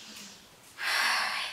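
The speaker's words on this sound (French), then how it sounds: "Inspire." A single strong inhale during a vinyasa yoga flow: a quiet moment, then a sudden close, airy intake that swells and holds for about a second with no talking.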